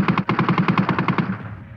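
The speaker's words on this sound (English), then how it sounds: "they were forced to approach above ground and were mown down by German machine gunners" German machine guns fire on a battlefield in a rapid, evenly spaced burst of about a dozen sharp reports, loud and close, with the final shots trailing into a fading echo.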